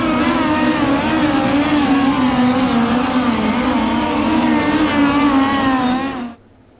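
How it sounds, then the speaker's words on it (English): Sprint cars roar in a World of Outlaws NOS Energy Drink Sprint Car Series heat race at Eldora, a loud, steady, wavering engine howl from several cars that holds for about six seconds before cutting off abruptly. "Heat race action underway at Eldora for the World of Outlaws NOS Energy Drink Sprint Car Series."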